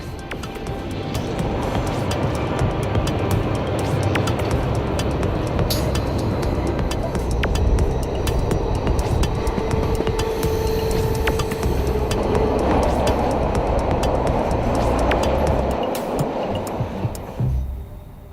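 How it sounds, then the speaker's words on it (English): A train pulled by an electric locomotive in Austria rolls steadily along the rails with a continuous low rumble and rattling, a faint whine rising in the second half before it fades at the end. "From here on, our train is pulled by an electric locomotive."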